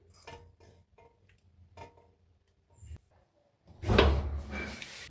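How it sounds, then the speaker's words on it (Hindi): Soft metallic clinks and taps, then a louder clatter as a pressure cooker lid is set in place and locked shut, close by. "कुकर को करेंगे यहाँ पर हम बंद।"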